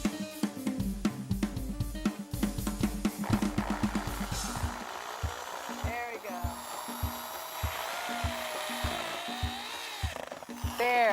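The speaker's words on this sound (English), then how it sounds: "After drilling all 3 peacock blue wallies in, it's looking great." Power drill driving peacock blue wall planters into a wall, with short bursts of whirring close up, followed by quieter handling and scraping noises while a person talks.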